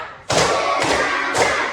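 A classroom group clapping in unison, three loud, sharp communal claps spaced roughly half a second apart, each ringing briefly in the room.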